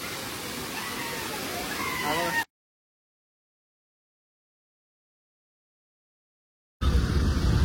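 Dhodhadi waterfall near Padghe pours with a steady, dense rushing roar of fast-flowing water that cuts off into a long silence and then returns at full strength.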